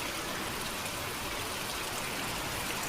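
Rain falling steadily outside a house under construction, a soft continuous hiss and patter with faint trickling, low and unbroken for the short stretch, no voices.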